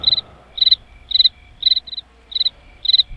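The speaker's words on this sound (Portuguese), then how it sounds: "O grilo." A cricket chirps loudly and close, in evenly spaced short trills of pulses repeating about every half second against a quiet background.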